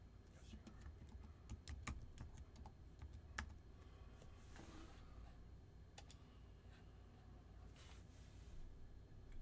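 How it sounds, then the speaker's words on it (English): Fast, uneven clicking of computer keyboard keys in short bursts, fairly close but quiet, over a faint room hum. "Sorry, I'm trying to type."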